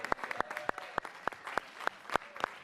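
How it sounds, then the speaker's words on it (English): Audience at a senior center clapping for a speaker, a sparse handful of separate hand claps in an uneven rhythm, fairly faint and roomy. "Let's give her a great round of applause."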